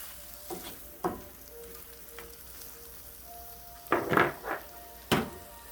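Food frying in butter in a pan, a soft steady sizzle broken by several sharper crackles and scraping stirs, the loudest bursts near the end, close by and with no talking.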